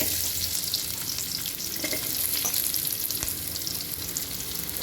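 Onions sizzle in about two spoons of hot oil in a frying pan, a dense, even hiss that holds steady throughout at close range, with no talking.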